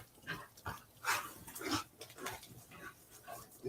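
Dogs in a backyard garden with banana trees let out a few barks and whimpers in short, uneven bursts at close range, with no other sounds competing.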